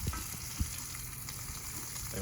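Butter burger sizzling steadily in a skillet of grease and butter on a Big Green Egg ceramic grill, a close, continuous frying hiss with a couple of soft clinks.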